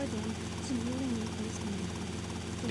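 A helicopter in GTA Vice City on PS2 whirs in a steady engine and rotor drone throughout, while someone talks over it.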